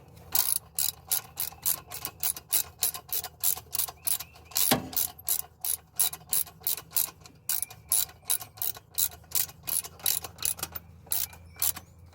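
A ratchet tightens a bolt on a car's intake manifold, giving fast even bursts of clicking repeated in a steady rhythm, close and clear, with one brief clunk midway.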